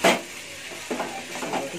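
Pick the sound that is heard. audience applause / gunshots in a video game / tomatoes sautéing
tomatoes sautéing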